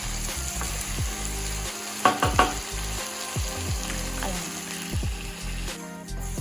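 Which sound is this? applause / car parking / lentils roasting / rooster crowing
lentils roasting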